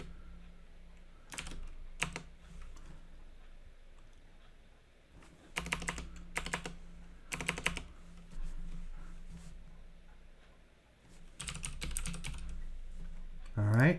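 Bursts of typing on a computer keyboard while code is being entered, several quick clusters of clicky keystrokes separated by pauses, close and clear over a quiet room.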